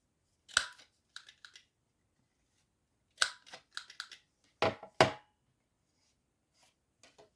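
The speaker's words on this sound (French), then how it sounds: "On va prendre notre petite machine pour arrondir les angles" A small corner rounder punch clicks and crunches through paper, rounding each corner in separate sharp clusters of snaps, close and crisp against near silence.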